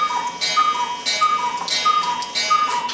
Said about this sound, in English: alright, that was the cuckoo clock.